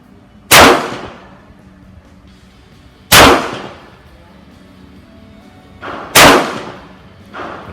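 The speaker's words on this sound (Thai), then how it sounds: "ยิงโดยพี่เอนะครับ เจ้าของปืน" Kimber Pro Raptor II pistol fired at a target about 15 metres away: several sharp, loud single shots roughly three seconds apart, each with a brief ringing tail, over quiet background.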